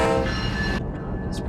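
A freight train rolls steadily in the Run8 train simulator game, a loud continuous rumble with a sustained horn tone that cuts off partway through.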